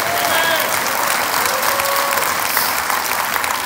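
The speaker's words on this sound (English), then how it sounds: "You're clapping" Congregation at a church service applauding, steady dense clapping from a large crowd that holds throughout, with a voice faintly audible underneath.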